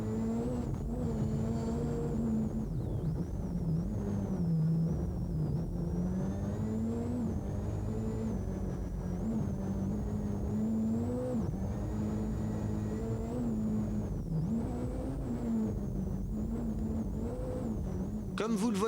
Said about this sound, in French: Nous sommes à sa poursuite à bord de la Renault Maxi Mégane à moteur turbo et 4 roues motrices de Christophe Vaison.